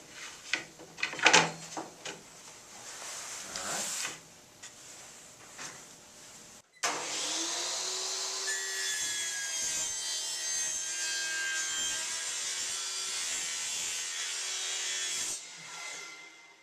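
A power saw set to 45 degrees cuts crown molding with a jig. Its steady, loud whine and wood-cutting rasp run for about eight seconds after some quieter handling knocks, then stop abruptly.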